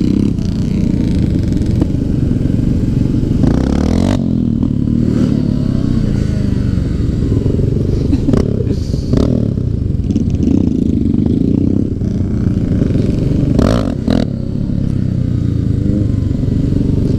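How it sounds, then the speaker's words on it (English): A Suzuki GS500 motorcycle engine roars loudly and continuously as it accelerates hard through a wheelie, with steady high revs, small surges and some clattering, and no talking. "Let's see if this thing will wheelie."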